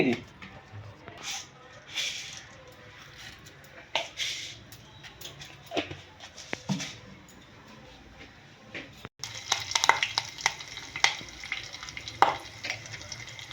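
Whole spices temper in hot oil with a crackling, spitting sizzle that stays faint at first and grows louder and busier later, while people talk nearby.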